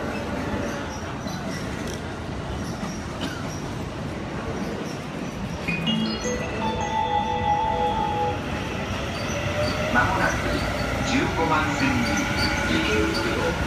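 A JR Yamanote Line E235 series electric train pulls into Shinjuku station with rumbling wheels and rising squeals against busy platform noise, while station announcements are heard over it.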